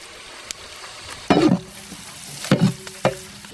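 Chopped onions frying in cold-pressed coconut oil and cow ghee, with sizzling bursts as the pan is stirred, loud and close, in short separate surges with quieter frying between.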